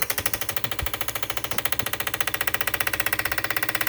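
Bosch EV14 95 lb 1000cc fuel injectors pulse on a flow test bench, a fast, even, loud mechanical clicking that holds a steady rhythm over a whirring hum throughout.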